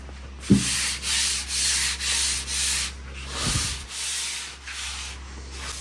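A hand rubs back and forth across unsanded car paint on a 1964 Ford Galaxie in a steady rhythm of soft, close scratchy swipes, with a couple of light knocks; no voices.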